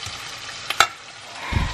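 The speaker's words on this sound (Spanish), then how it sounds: "aquí ya estoy friendo las cosas que les dije que iba a freír" Tomatillo, tomato, onion and garlic frying in a pan, a steady soft sizzle with a couple of sharp clinks of a utensil against the pan near the middle, heard alone at close range.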